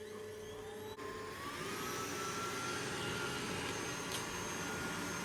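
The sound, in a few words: Dreame robot vacuum hoovering and mopping floor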